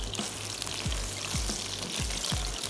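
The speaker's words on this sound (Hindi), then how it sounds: "हल्की आंच पर बस सिर्फ हल्का सा फ्राई कर रहे हैं" Meat for a black pepper karahi fries gently over low heat with a continuous mild sizzle. Four or five spatula strokes scrape and knock against the pot at intervals, and no one talks.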